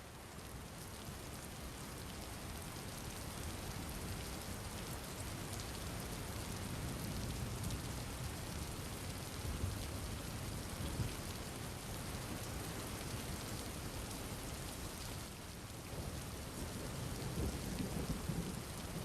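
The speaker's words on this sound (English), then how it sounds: "the rain slowly begins to become not only heavier, but you begin to hear the sounds of thunder" Heavy, steady rain pours down with rumbles of thunder rolling through it, a dense continuous wash of sound with no voices.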